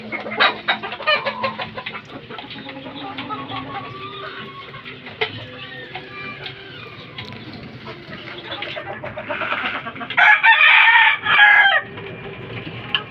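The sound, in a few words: chickens and chicks, gamefowl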